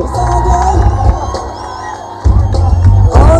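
A large audience at a Pawan Kalyan 'Walk of Heart' launch stage event roars with loud, sustained cheering, whoops and shouts that swell again near the end.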